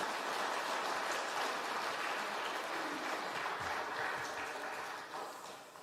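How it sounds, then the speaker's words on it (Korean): A church congregation applauds for a visiting pastor with sustained, dense clapping that fills the room evenly, then tapers off toward the end. "크게 우리 박수로 맞겠습니다."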